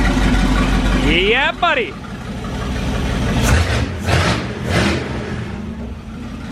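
A 1970 Plymouth Duster with a 440 big block engine revs hard up and back down over a loud rumbling idle, then gives several shorter throttle blips, close by. A man whoops over it.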